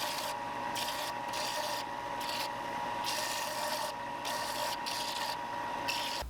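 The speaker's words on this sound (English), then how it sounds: "We're gonna sand this whole bait out." A sander works over a carved wooden corn cob fishing lure, giving close, steady abrasive rubbing in repeated back-and-forth bursts with a faint mechanical whir underneath.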